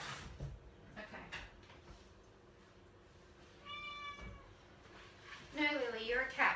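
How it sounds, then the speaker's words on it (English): A cat meows in a home kitchen, with a couple of drawn-out cries near the end while a person talks and kitchen clatter sounds nearby. "No, Lily, you're a cat, remember?"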